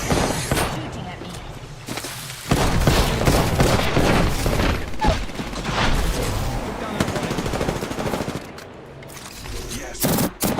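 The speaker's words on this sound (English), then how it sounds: "Oh, they're shooting at me." Rapid bursts of video game gunfire aimed at the player crackle in dense volleys, loud and close, with brief gaps between flurries and a voice talking underneath.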